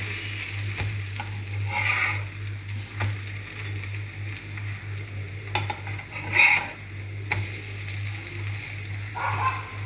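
Rava oothappam cooks on a pan over low to medium flame with a constant soft sizzle and a low hum underneath, plus a few scraping and tapping sounds as it is turned over.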